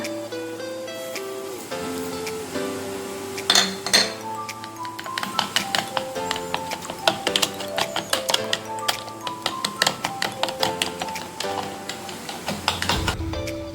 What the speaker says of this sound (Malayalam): പഞ്ചസാര ഇട്ട് സ്റ്റിർ ചെയ്യാം.